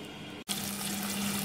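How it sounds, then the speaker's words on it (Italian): Kitchen tap water running to measure a quarter litre for broth, a brief cut then a steady close rush of water filling a container, with a faint rising tone and no talking. "Preparo un quarto di litro"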